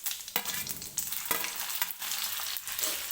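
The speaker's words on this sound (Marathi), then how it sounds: "आता मी टाकते जिरं." Cumin seeds hit hot oil that already holds popped mustard seeds, for Maharashtrian pithla. They give a loud, close, steady sizzle with crackling bursts and a few sharp clicks, and no one talks.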